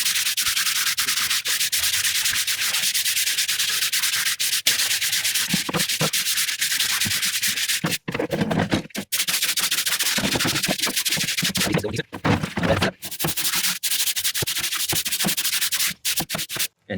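A gas grill is scrubbed with citrus degreaser in close, loud, continuous rough scraping strokes, broken by a few short pauses.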